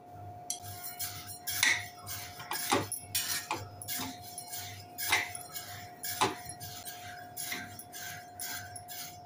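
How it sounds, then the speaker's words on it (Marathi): Rice dry-roasting in a hot kadhai, heard as repeated scraping and clinking of a spatula against the metal pan with a faint steady hum, no talk. "पहिल्यांदा आपण तांदूळ भाजून घेऊया"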